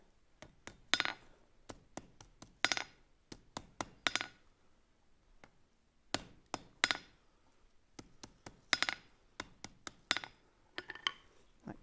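Metal being hammered straight at a gas forge: sharp ringing hammer blows in quick clusters of several strikes, separated by short pauses, close and fairly loud with no talk.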